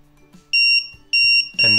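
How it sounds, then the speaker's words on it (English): A piercing electronic buzzer on an Arduino timer beeps three times in short, evenly spaced bursts, loud and close, with faint clicks between. "we're going to turn off the LED and the buzzer is going to go off"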